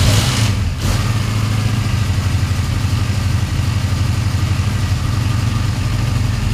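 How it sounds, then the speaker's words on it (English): A restored Honda Benley motorcycle, unrun for four or more years, idles close by with a steady, even low thrum and no throttle blips after a brief catch at the start. "That engine, that's not rattling at all."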